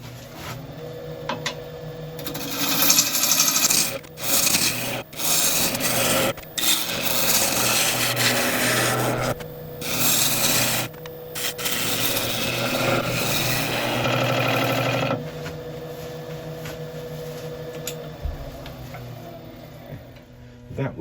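A redwood bowl is turned and shaped on a wood lathe, with a continuous loud scraping, rasping cut broken by brief pauses as the tool is repositioned, then easing off toward the end.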